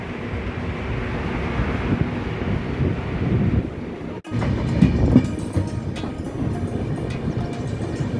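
The Shipra Express pulls out of Vindhyachal station in early morning light, a steady loud rumble of the moving train with wind buffeting the microphone, a sharp break halfway then continued clatter, no voices.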